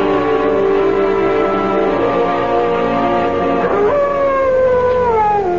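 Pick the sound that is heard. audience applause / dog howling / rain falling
dog howling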